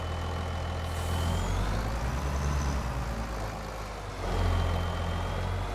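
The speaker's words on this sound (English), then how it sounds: "That truck is loud." A loud truck engine rumbles at idle in a farming video game, deep and steady, rising slightly with a couple of surges and a short dip, close and with no talking.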